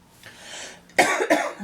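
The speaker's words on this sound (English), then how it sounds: "tickly cough again" A close, harsh cough in two quick bursts, preceded by a soft breathy rasp.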